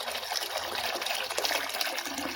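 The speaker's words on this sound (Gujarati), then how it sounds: "જોઈ શકો છો પાણી નાખી દઈએ આપણે મસ્તનું ભરી દઈએ" Water poured into a pigeons' drinking dish to fill it, a steady close splashing and trickling that runs the whole time with no talk.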